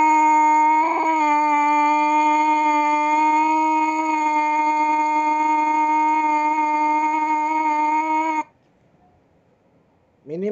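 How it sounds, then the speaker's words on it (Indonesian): A brass instrument mouthpiece being buzzed, heard as a steady, loud, sustained buzzing tone lasting about eight seconds, with a brief flutter near the start, then near silence and a short new onset at the very end. "Misal nanti kita coba dengan mouthpiece ditempelkan, nanti suaranya jadi seperti ini."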